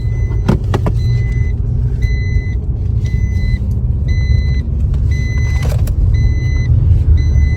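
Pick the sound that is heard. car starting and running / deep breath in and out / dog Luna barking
car starting and running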